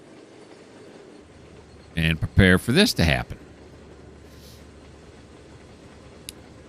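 A locomotive backs up in the train simulator Trainz 2019, giving a low, steady engine rumble that runs through the whole stretch, with a person talking briefly over it in the middle.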